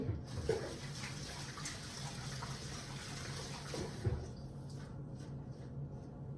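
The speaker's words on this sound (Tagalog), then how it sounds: "Hugas muna ako ng kamay." Water runs steadily from a tap as hands are washed before cooking, a faint, continuous splashing hiss that stays even throughout.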